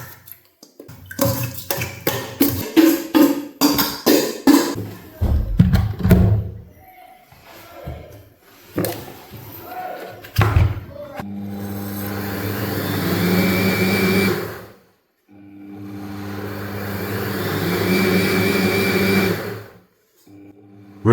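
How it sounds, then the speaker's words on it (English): An electric blender whirs through 300 grams of soaked rice and 400 milliliters of water, opening with choppy pulsing bursts, then two long, loud, steady grinding runs separated by a short pause, with no talking. "and blend it like you would fruit"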